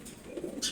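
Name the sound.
pigeons cooing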